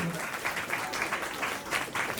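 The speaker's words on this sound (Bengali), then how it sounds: "আসুন আবারও জোর করতালি" Audience applause at a writers' conference welcoming special guests, a moderate, fairly distant patter of clapping that holds steady throughout with no voices over it.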